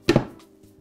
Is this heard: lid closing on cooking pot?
yes